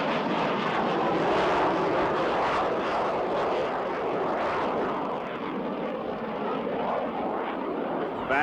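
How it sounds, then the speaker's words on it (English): Blue Angels jet taking off, accelerating with landing gear extended before a low 360-degree roll. A loud, steady, broadband jet roar fills the whole stretch without letting up, and no voices are heard. "Blue Angel number 5 is rolling. He'll accelerate to 170 miles per hour and climb to an altitude of 50 feet."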